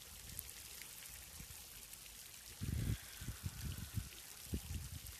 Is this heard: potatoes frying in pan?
no